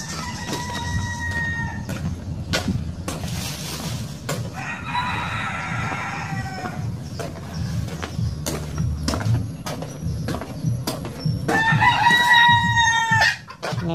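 Chickens on a farm that flooded overnight cluck and chatter steadily close by, while roosters crow in several drawn-out calls, one early, one midway and a louder one near the end.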